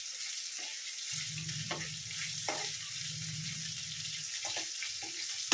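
Marinated chicken pieces for Chicken Manchurian sizzle steadily in hot oil, a continuous fry hiss with occasional stirring knocks and a low burst of bubbling midway.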